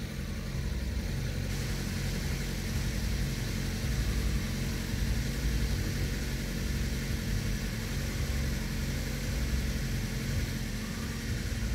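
A BMW 325i engine idles steadily nearby, a smooth, even, low rumble that continues without talk for the full stretch.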